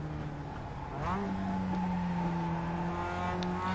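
Mazda MX-5 Cup race car engine in iRacing at Tsukuba Circuit, holding a steady third-gear drone through a corner with a brief rise in pitch, continuous and close.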